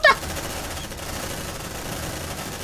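Gunfire in the video game Aliens: Dark Descent, a sharp burst at the start followed by a dense, steady rattle of sustained fire lasting a few seconds.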